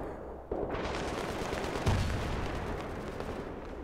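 Two sharp, heavy sniper rifle reports sound in the video game Battlefield 3, the second louder, each trailing into a long booming reverberation with no talk over it.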